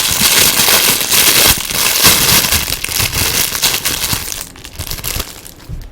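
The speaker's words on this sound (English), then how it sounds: "It's still engulfed in plastic wrapping." Plastic wrapping torn and crinkled off a Super Mario Toad action figure, loud continuous crackling and rustling close up, tapering off near the end.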